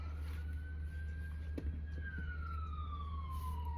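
A fire engine siren wails in the distance, its tone rising and then sliding down as it passes, over a steady low hum of nearby room noise.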